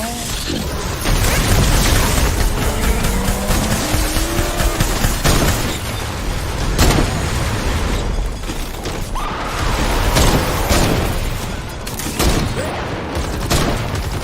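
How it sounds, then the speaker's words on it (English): Cannons fire repeatedly in the Fortnite video game, sharp booming blasts scattered over a busy mix of game effects, rushing and crashing sounds, loud and continuous. "Oh, the cannons are just going off."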